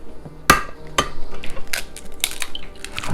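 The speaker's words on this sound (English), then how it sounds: "We will crack an egg" An egg is tapped and cracked against a bowl while making corn dog batter, giving a sharp knock followed by several lighter clinks and small cracking taps close by.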